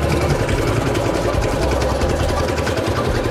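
An engine runs steadily and loudly throughout, a dense low rumble with slight fluctuations that hint at revs rising and falling.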